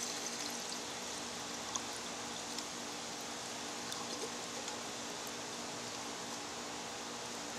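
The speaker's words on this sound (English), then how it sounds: "put 2 cups of water on the boil" Water poured into a metal canteen cup at a campsite, a steady broadband rush with a light trickle running unbroken throughout, fairly quiet and alone with no talking.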